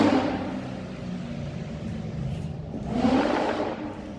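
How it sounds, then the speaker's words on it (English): Car revving as it drives through a residential neighborhood on a Chicago street: a moderately distant engine roar that swells twice, once at the start and again more strongly near the end. "Why would a car go through a residential neighborhood making a bunch of noise like that?"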